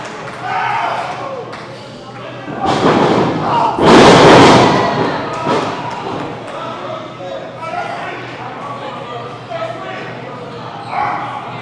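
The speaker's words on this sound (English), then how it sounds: "Magnificent back body drop by Dalton." A heavy thud from a wrestler landing on the mat after a back body drop, set inside a loud, rising crowd roar with excited commentary running over it.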